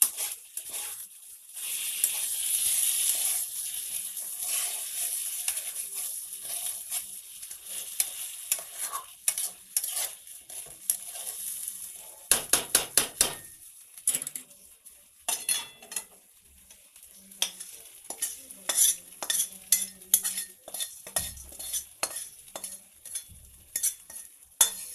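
Rice frying in ghee being stirred in a pan, a continuous close sizzle with grains spattering, scraping stirs and sharp utensil clicks that grow sparse and intermittent toward the end.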